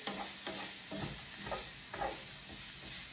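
Onions softening in a hot pan, a low steady sizzle with a scrape of stirring about every half second, no voices.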